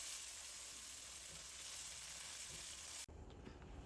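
Spiced shingara filling with black pepper, coriander, cumin and garam masala is frying in a pan. A faint, steady sizzle hisses for about three seconds, then cuts off abruptly near the end.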